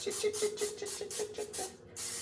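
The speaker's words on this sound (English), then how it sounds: "I'm going to spray it." Cooking spray from an aerosol can coating a loaf pan, a run of about eight short hissing bursts in quick rhythm, close and fairly loud, then a brief pause before another spurt.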